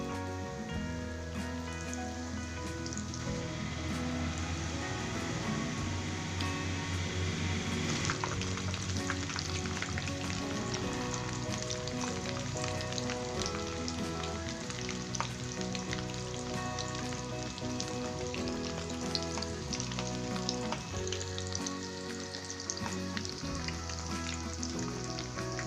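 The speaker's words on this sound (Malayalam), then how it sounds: "ഇതിലേക്ക് ഓരോ ചിക്കൻ വട വീതം ഇട്ട് ഫ്രൈ ചെയ്തെടുക്കാം" Chicken vada deep-frying in hot oil, a continuous crackling sizzle that stays even and steady throughout over soft background music.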